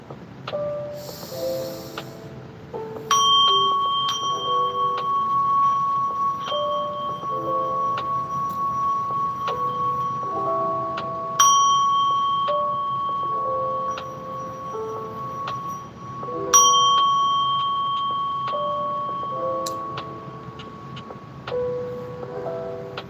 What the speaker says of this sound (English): I'm gonna hit this bell.